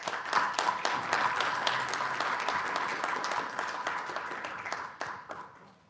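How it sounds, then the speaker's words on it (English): An audience applauds a journalism panel discussion at a university, broad sustained clapping from a full room that carries steadily for several seconds before thinning and fading out at the end. "I invite you to applaud our panel."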